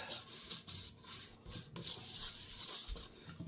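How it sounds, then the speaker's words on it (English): A hand rubs olive oil around the inside of a bowl for bread dough, giving soft, close, repeated rubbing and swishing strokes with brief pauses. "I'm just going to throw a little olive oil in there. Just rub that around on the inside."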